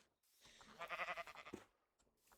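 Sheep bleat in the Minecraft video game, a single wavering, slightly nasal bleat of about a second with a quieter echo after it, close and clear with no talking.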